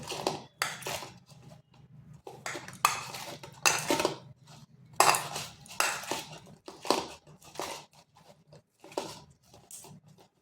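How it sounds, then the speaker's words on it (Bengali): A flattened rice (chira) mixture with carrot is mashed in a bowl for a snack, making a rhythmic series of close scraping and clinking bursts with short pauses between them. "এটা কিন্তু একটু সময় ধরে এইভাবে চটকাতে হবে"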